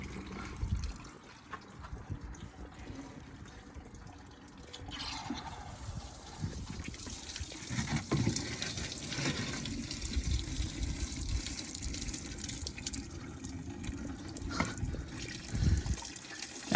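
Coolant drains from a vehicle radiator during a high-clearance radiator install, a continuous faint trickle and splash of liquid that swells and becomes busier as the flow picks up pressure.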